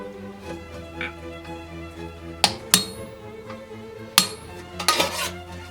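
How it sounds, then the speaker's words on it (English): Sharp hammer blows on a center punch against a steel greave: a few isolated metallic strikes, spaced apart, with a quick pair near the end, close and clear over a quiet workshop hum. "I'm going to center punch it from the outside"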